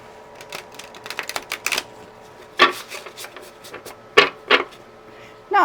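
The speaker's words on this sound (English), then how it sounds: "Do another shuffle or two." Zombie Tarot cards being shuffled by hand, a fast burst of crisp riffling clicks followed by several separate louder slaps and snaps as the deck is bridged and squared, close and alone.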